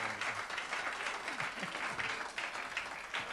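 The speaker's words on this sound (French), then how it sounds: "Vous êtes bien sympa à l'applaudir, je trouve." Studio audience applause on a French TV variety show, a steady wash of clapping from a crowd, fairly close and continuous for a few seconds with no voices over it.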